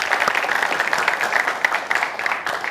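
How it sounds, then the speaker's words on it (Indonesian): Audience applause in a televised Indonesian sports talk show about cricket at the PON national games, a steady dense clapping from a studio crowd sustained for a few seconds. "Boleh kita kasih tepuk tangan untuk kita semua yang berada di sini."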